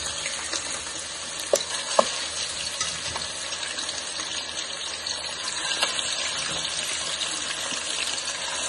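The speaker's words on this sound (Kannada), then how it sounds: "ಸ್ವಲ್ಪ ಎಣ್ಣೆ ಹಾಕಿದೀನಿ. ಈಗ ಚಿಕನ್ನ ಹಾಕ್ತಾ ಇದ್ದೀನಿ." Chicken frying in a little oil in a pan for green chilli chicken, a steady close sizzle with a watery hiss and a couple of sharp clicks from stirring, no voices.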